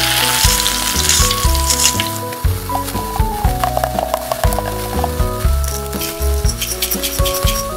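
Onions seasoned with salt and pepper frying in a miniature pan, a steady close sizzle with small clicks and scraping taps of a utensil against the pan throughout.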